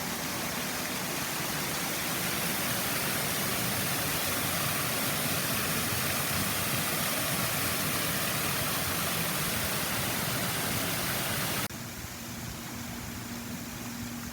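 Waterfalls in a Wichita, Kansas waterfront park, fed by forceful fountains, roar as a steady, loud, broadband rush of falling water with no voices, the sound dropping slightly in level near the end.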